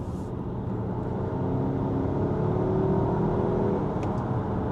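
A 2024 Volvo XC60 T6 Recharge AWD accelerates from 0 to 70 on a motorway, a subdued rising whir and drone under steady road and cabin noise, heard from inside with no one talking.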